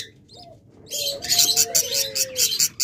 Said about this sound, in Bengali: বাজরিগার পাখি দেখাচ্ছি, দেখুন